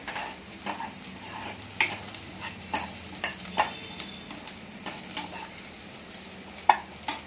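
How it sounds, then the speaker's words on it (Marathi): Onion sautéing in a pan until browned, with a soft steady sizzle and repeated scrapes and taps of a spoon stirring against the pan, close and alone without talk. "आता आपला कांदा होत आलेला आहे, चांगला परतून घ्यायचा लाल होईपर्यंत"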